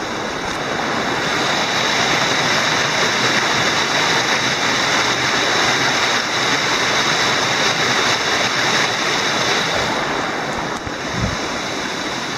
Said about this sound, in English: I'll show you the top of the cascade going down.